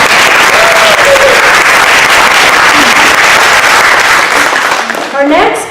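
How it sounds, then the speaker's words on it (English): Loud, dense applause from a community audience at a birthday celebration, thanking the journalists. It carries on steadily before tailing off, with a few voices coming through near the end. "Another applause for them"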